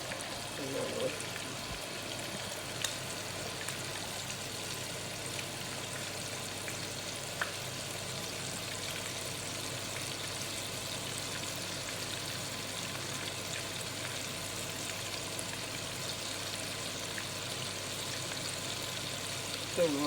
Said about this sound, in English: Fry really slowly and turn occasionally, so you make sure all sides are cooked.